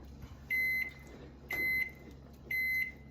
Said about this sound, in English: sounds like the broccoli in the microwave is done